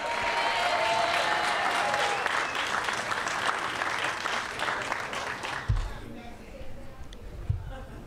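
An audience at the Fort Stanton Recreation Center ribbon-cutting ceremony applauds steadily to welcome Councilmember Marion Barry, with the clapping fading out toward the end amid a few louder thumps.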